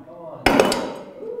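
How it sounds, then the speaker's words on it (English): A hammer strikes a tile once with a sharp, bright crack followed by a short ringing decay, close and fairly loud, with faint voices in the background. "You can see how many times you can hit the tile."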